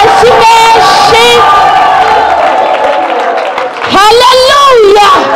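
A church congregation shouts and whoops with raised, excited voices in loud bursts, a brief lull partway through before a fresh wave of cheering and calls.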